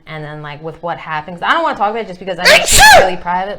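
A person sneezes loudly mid-conversation, a sharp, explosive burst that cuts in among close, steady talking.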